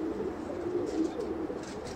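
Pigeons of the Mianaji bloodline coo softly in a loft in Oman over a low, steady background hum.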